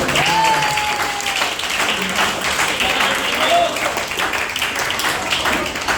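Large live audience applauding at a coaching and sales seminar in Indonesia, a dense, steady wash of clapping and crowd noise lasting throughout, loud and close, with a few faint voices and tones underneath.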